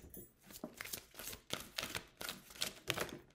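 Oracle cards are shuffled in a rhythmic series of crisp riffling and slapping bursts, repeating steadily and close up with no talking.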